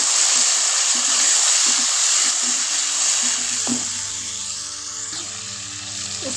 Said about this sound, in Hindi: अब हम इसमें थोड़ा सा ये पानी डालेंगे।